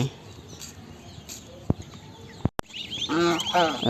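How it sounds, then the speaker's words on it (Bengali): Young goslings honk and peep in a rising chorus as chopped cabbage is fed to them in a village yard, preceded by a few sharp knocks and clatters, loud and close near the end. "রাজা হাঁসের বাচ্চাদেরকে পাতাকপি খাওয়ানো হচ্ছে"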